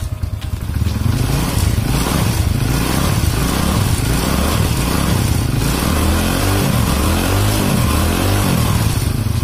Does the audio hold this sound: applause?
no